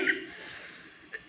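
A single sudden cough from a woman with a sore throat, sharp and close at the very end, following faint indistinct voice sounds.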